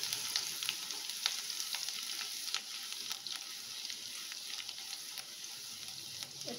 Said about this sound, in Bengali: রসুন কুচিটা একটু নাড়বো।